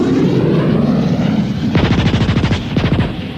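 Radio sound effect of a fighter plane opening fire: a steady engine drone, then rapid bursts of machine-gun fire rattling loudly, close up, in two quick volleys.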